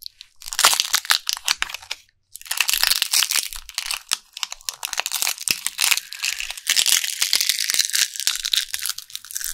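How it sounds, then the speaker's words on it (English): Dry fall leaves crunch and crackle up close under footsteps in a dense, irregular run of crisp crinkling bursts, with one brief pause near the start and no voices. "stepped on leaves just to hear them crunch?"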